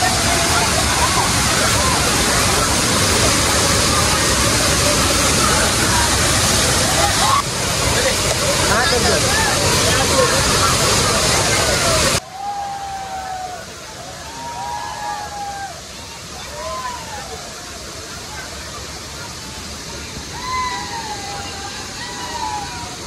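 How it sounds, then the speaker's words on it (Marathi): Savdav waterfall pours as a loud, constant roaring rush of water, heavy at first and then softer and farther off, while a crowd of visitors chatters and calls in the background. "शिवाचा सावडा होतो धबधबो आणि इकडची पब्लिक बघा"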